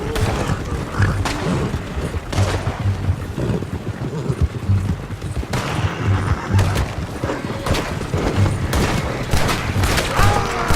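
Gunfire in the western game Red Dead Redemption 2: repeated sharp shots and bursts mixed with horses neighing and hooves clattering, a loud, busy battle scene with music underneath.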